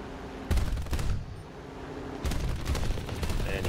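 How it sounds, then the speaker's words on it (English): Bursts of aircraft cannon and machine-gun fire from a C-205 in War Thunder: a sharp rapid volley, a pause under engine drone, then a longer sustained stream of shots. "And he is shooting."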